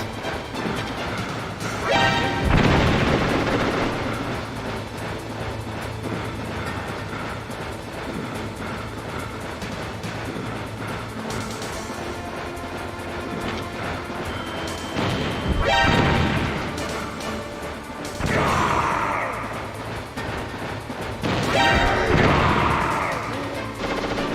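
Repeated loud bomb blasts and crashes from the video game Metal Gear Solid, with bursts landing several times over a steady background of in-game music and ambience, with no talking.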